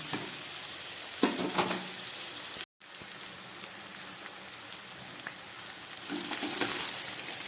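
Half a tomato and spices fry for a Bengali-style chicken soup, a dense rain-like sizzle close up with occasional stirring scrapes and a brief dropout partway through, no speech.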